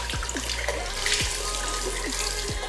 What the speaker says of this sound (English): Pero, tingnan natin yung pressure ng tubig, no? Wow! Ang lakas ng tubig, no?